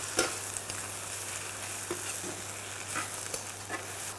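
Spinach sautéing in a pan with mushrooms and shallots, a soft, even sizzle with a few faint stirring ticks over a low steady hum.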